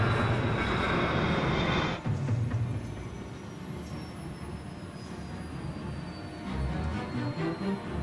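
Airbus airliner engines on final approach, flying dangerously low: a steady broadband roar with a high whine, a sharp change after two seconds, then a continuing rumbling drone.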